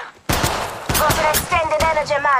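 Rapid bursts of automatic gunfire in Apex Legends Mobile, loud and close, firing in quick volleys alongside a sustained electronic whine.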